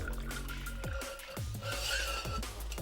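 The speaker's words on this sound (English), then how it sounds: "just putting and start to pour" Liquid poured from a bottle into a metal bar tin, a soft continuous pour and trickle with a few light clinks of the bar spoon and tin, close up and steady for about three seconds.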